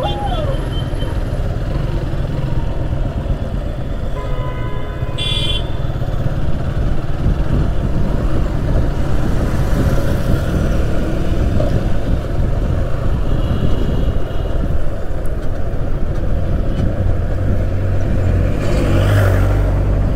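Road traffic in a jam near a flyover in Varanasi: a loud, continuous wash of car and motorcycle engines with occasional revving and horn-like tones, close and unbroken throughout.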